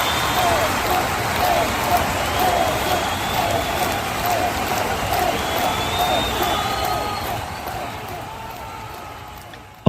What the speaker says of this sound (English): let's give Dr. Lynn Carey a round of applause, please